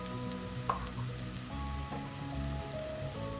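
Ground pepper, garam masala and fennel powders sizzle steadily in hot oil for a small-onion masala, a continuous close frying hiss with faint stirring scrapes and no talking.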